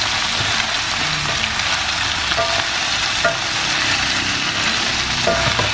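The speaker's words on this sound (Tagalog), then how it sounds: "Iprito na namin para mas matagal siya doon sa rep." Leftover adobo fries in a pan with a steady, dense sizzle that stays even and close from start to finish, with a few faint scrapes.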